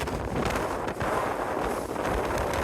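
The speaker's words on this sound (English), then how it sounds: "prevailing wind is coming from the west today" Strong gusting wind buffets the microphone on an exposed, sharp ridge line during a solo hike in bad weather in Connemara, a loud continuous roar with brief dips and no talking.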